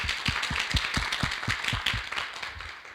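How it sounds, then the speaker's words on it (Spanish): Audience applause at a talk on pedagogy standards, with distinct sharp hand claps in a steady rhythm over a dense background of many people clapping, moderately near and fairly faint overall. "Así que le damos un aplauso también al equipo de profesionales que nos acompaña."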